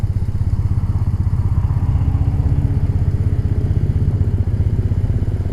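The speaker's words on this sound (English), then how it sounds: "here's the other brown 700 GS" A brown BMW 700 GS motorcycle rides past on a rural Australian road, its engine a loud, steady, throbbing mid-pitched drone with rapid regular pulses throughout.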